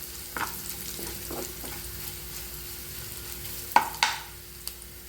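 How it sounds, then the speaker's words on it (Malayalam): Dried red chillies roasting in oil on low heat for a banana stem thoran, a quiet low sizzle broken by a few scattered sharp crackles and spoon taps, the loudest pops bunched near the end. "ഉണക്കമുളകൊന്നും ഒന്ന് സ്ലിമ്മിലിട്ടിട്ട് ഒന്ന് മൂപ്പിച്ചെടുക്കാം"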